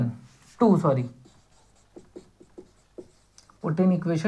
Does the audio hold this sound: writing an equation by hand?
yes